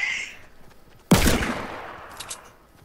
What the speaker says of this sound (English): Can you stop shooting at me?